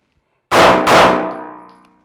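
Two pistol shots fired at the 7-yard line on a live-fire range, loud sharp cracks about a third of a second apart, close by, followed by a ringing decay.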